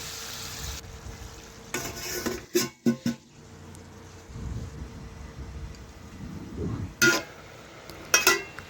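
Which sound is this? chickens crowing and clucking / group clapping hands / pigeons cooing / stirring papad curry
stirring papad curry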